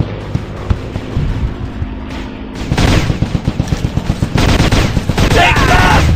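Rapid machine-gun fire at enemies in the Commando Strike video game, a loud, rhythmic string of evenly spaced shots that grows heavier midway, with a few booms and a voice heard briefly over it.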